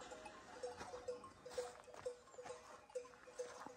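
A flock of sheep with bells coming down a slope toward an apiary, with a steady, rhythmic clink of bells repeating about every half second, fairly faint amid bleating and a background hum.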